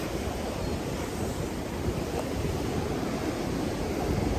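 Surf washes on a beach under gusty wind while someone walks along the sand, a broad, steady roar with no speech.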